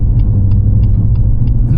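A tuned BMW M240i with a custom Stage 2 engine and gearbox tune drives hard through a built-up area, a loud steady engine roar with deep low rumble and a faint pulsing note repeating about every third of a second.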